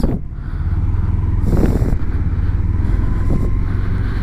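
Car driving along a country road near Schaffhausen, a loud steady engine and road rumble heard from inside the cabin, with brief swells as it goes.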